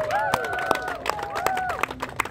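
Crowd at a dance crew show cheering and clapping, with whistles and sharp claps over a busy, sustained roar of voices.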